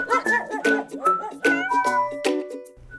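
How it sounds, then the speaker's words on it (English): A domestic short-haired cat meows several times in quick succession, close and clear, with drawn-out rising and falling cries. "the Pet of the Week is Ratchy, an amazing domestic short-haired cat with a big heart and a love for anyone that will love him."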